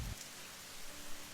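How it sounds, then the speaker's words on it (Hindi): Heavy rain falling steadily as a dense, even hiss with no pauses, fairly faint and without any voices. "जहां खूब बारिश हो रही थी"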